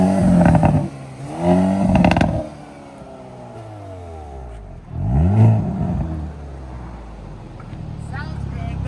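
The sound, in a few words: Yamaha 900cc superbike engine revving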